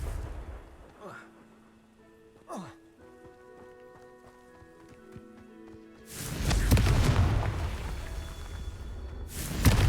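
Confringo fire spell blasts in Hogwarts Legacy, with two whooshing casts and then a heavy, roaring explosion burst that swells loudly near the end over tonal game sounds.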